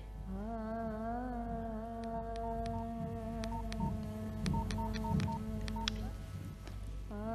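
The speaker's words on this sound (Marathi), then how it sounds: "मी मी आता बाबालाच फोन करते" A telephone being dialed in a Marathi radio drama: a quick series of short electronic key beeps over a steady low hum, fairly quiet and with no voices.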